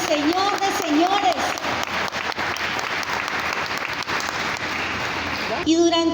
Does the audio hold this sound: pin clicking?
no